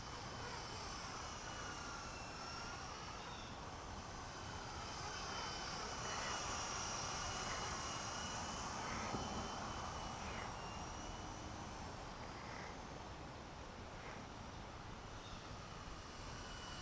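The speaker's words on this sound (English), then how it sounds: "this is of course a fixed pitch helicopter" A small Blade 120 S2 fixed-pitch radio-controlled helicopter whines steadily overhead, its rotor drone rising slightly in the middle, with no talking.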